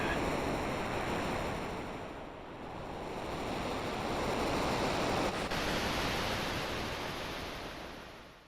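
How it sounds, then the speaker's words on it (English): A tidal wave in the Chrono Trigger video game roars as a long, loud surge of rushing water that swells, briefly eases, then builds again before fading near the end. "A tidal wave"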